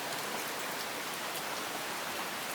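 Steady rain falls during a storm in a village, a dense, even hiss of drops on surfaces that holds unbroken and fairly loud throughout, with no voices.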